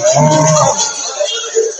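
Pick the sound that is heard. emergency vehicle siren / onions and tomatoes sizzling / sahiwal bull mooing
sahiwal bull mooing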